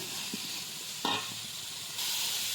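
Chopped onion and four green chilies sauté in a pan with a steady soft sizzle and hiss, broken by a brief stir or scrape near the middle, close and without talk.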